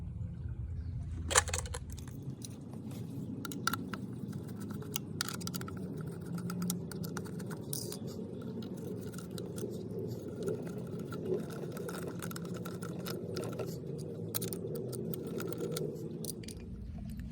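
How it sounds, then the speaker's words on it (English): Small screws being worked loose from a fog light bracket on a 2017 Honda CR-V, heard as quiet, close clicks and ticks of a hand tool in a busy irregular patter with no voices. "there's 3 screws there that we're going to remove to take the bracket off"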